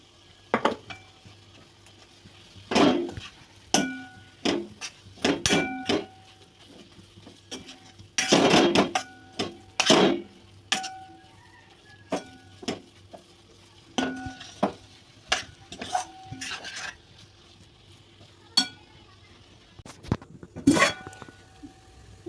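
Gram flour goes into a pan for zunka and is stirred in, making repeated scraping and clattering spoon strokes against the metal over a low sizzle, close and fairly loud, with no talking.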